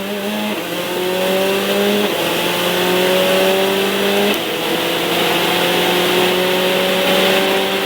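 Ferrari 488 Challenge Evo race car accelerating hard on track, its loud onboard engine note climbing steadily through the gears with brief dips at each shift, continuous and close.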